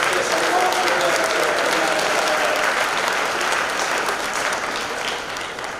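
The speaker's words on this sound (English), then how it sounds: "Please give one more big round of applause." Loud, sustained audience applause at a senior awards ceremony, many hands clapping steadily and evenly before easing slightly toward the end.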